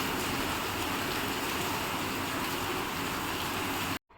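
Heavy rain drums steadily on a rooftop, a dense even hiss that stays loud and unbroken for about four seconds before cutting off abruptly, with no voices.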